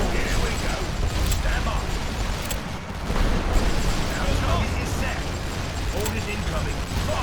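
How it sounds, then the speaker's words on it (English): Artillery fire in the Great War Western Front game: dense, continuous rumbling battle noise with scattered distant booms and clanks, heard under someone talking throughout. "Their artillery is coming."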